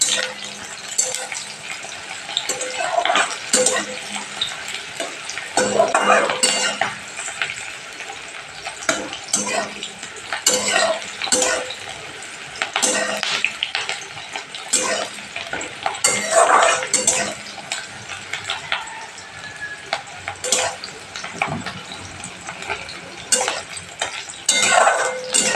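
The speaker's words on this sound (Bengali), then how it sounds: "পেঁয়াজ আর লঙ্কাটা আমি তেলের মধ্যে একটু হালকা করে ভেজে নেব।" Onion and slit green chilli frying lightly in oil for a tomato-onion khoira fish curry, with frequent scraping and clattering of a utensil against the pan over a steady low sizzle throughout.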